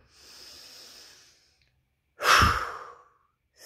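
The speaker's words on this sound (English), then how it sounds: "Now, three big breaths." A deep breath drawn in during a guided breathing exercise: a soft, quiet airy inhale first, then after a pause a louder, close, rushing breath.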